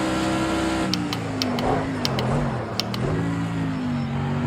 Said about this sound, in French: Donc là, on freine bien à l'avance.